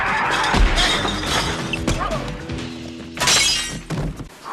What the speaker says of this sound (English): They start smashing it.